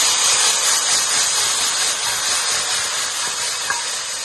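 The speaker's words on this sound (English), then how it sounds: "Good sizzle going on, that's what a stir fry should do." Cauliflower sizzles hard in a hot stir-fry pan, a loud, continuous bright hiss and crackle with steady intensity and a small clink near the end.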